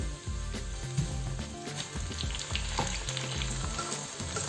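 Onion, garlic and tomato sizzle steadily in a pan for a lamb and spinach curry, a loud continuous frying hiss broken by the scrape and knock of a utensil as the mixture is stirred.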